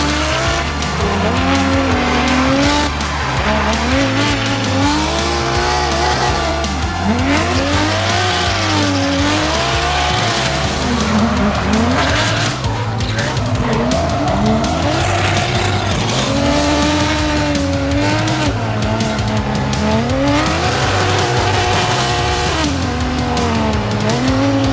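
Drift cars tandem drifting, loud engines revving and wailing up and down with sustained tire squeal and skidding, continuous and close throughout.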